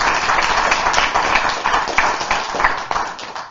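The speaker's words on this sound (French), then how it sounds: "Vous pouvez les applaudir" An audience claps steadily after a French stand-up comedian's prompt, dense continuous applause at moderate volume with no voices over it.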